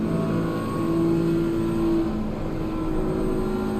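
BMW and Ferrari race cars lapping the Nürburgring in Assetto Corsa Competizione, a continuous loud engine drone holding a steady pitch that dips slightly, with no voices.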